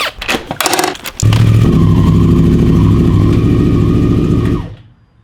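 Motorcycle on a road ride, a few brief bumps and rattles before the engine settles into a loud, steady drone that passes close, then cuts off and drops to near silence.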